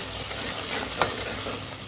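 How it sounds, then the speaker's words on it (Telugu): Ginger garlic paste stirred into onions and chillies frying in a pan for mutton paya curry, a continuous close sizzle with a faint scrape of the spoon near the middle. "సో దోరగానే దాంట్లోకి నూరు పెట్టుకున్న అల్లం వెల్లుల్లి ముద్దని అలా వేసేస్తున్నాను."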